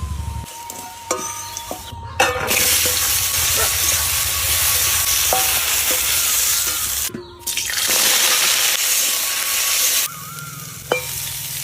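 Mixed vegetables fry in oil with tempering spices, giving a loud, continuous hissing sizzle that drops out briefly a few times, with occasional clinks and scrapes of stirring.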